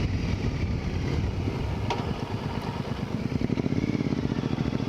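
A Triumph America motorcycle rumbles at low speed under heavy wind buffeting, the engine's pulsing note rising slightly toward the end.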